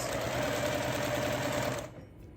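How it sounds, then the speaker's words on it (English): A sewing machine stitches quilt block nine-patches in one steady, loud mechanical whir at close range, then cuts off abruptly near the end. "Okay, so I'm going to sew it."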